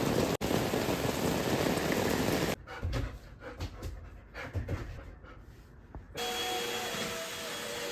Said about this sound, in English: Did you get caught in the rain?